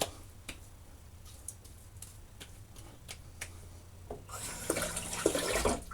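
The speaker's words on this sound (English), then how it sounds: "I'm going to do a little bit of warm water wash off." Bathroom tap runs as warm water rinses a freshly shaved face, with faint ticking splashes that build into a louder, steady gush of running water near the end.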